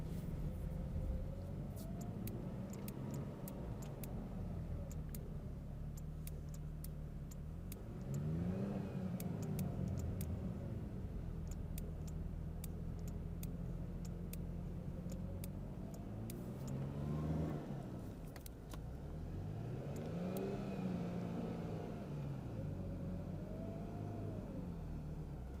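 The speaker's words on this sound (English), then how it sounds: "the tires are spinning, especially because we're going uphill, so it's harder going uphill. So we're gonna pull as we gas." An off-road truck climbing a snowy trail during a winter recovery revs repeatedly, its engine rising and falling in several surging pulls as the tires spin, close and loud with a steady whir between bursts.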